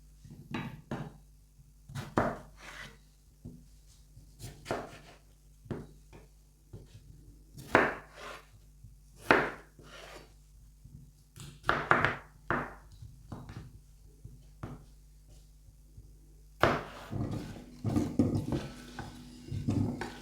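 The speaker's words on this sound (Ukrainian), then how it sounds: "зараз буду нарізати на шматочки" Repeated knife chops through potatoes on a cutting board, irregular bursts of several quick thunks with short pauses between, close and fairly clear.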